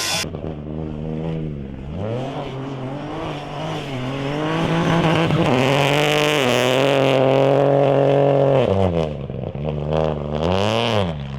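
A Peugeot 208 Rally4 car's 1.2-litre three-cylinder engine revs and drones loudly throughout, rising in pitch as it accelerates with a buzzy, rasping tone, steady and close.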